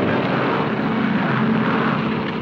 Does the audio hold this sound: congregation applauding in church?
no